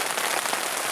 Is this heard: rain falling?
yes